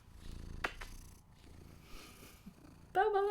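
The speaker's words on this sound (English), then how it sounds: "Pom Pom is waving and purring for you." A happy pet cat purrs softly under quiet room noise, with a couple of brief handling knocks, then a louder tonal burst breaks in near the end.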